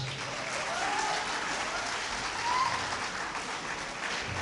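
Steady applause from an audience fills the room, a sustained wash of clapping without pauses, at a Hindi poetry recital (kavi sammelan).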